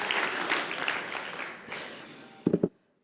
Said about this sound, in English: And then applaud.